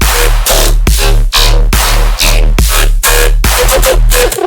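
A loud, heavily processed music loop passed through an upward spectral compressor, sounding dense and flattened, with a sustained low tone under rhythmic bursts that hit roughly every half second.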